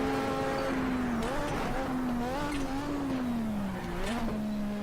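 Ayrton Senna's Lotus 98T Formula 1 car is driven flat out up a hill through a double right-hander on the Nordschleife. A sustained, droning engine note shifts pitch as it pulls hard, with scattered bursts of noise.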